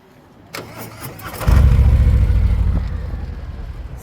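A motorcycle engine at a flea market parking lot cranks, catches and starts, rising into a loud close rumbling rev before settling toward a steadier idle, no talk.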